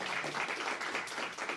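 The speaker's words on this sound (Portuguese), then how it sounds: "salva de palmas para Marília." Short burst of audience applause at a legal talk, soft rapid clapping from a small group, faint and brief without speech.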